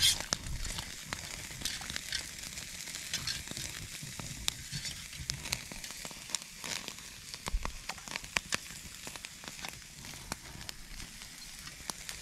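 Steak sizzles steadily in a pan at a cabin-building site, a continuous soft frying hiss dotted with sharp crackles and pops, fairly quiet and uninterrupted by talk.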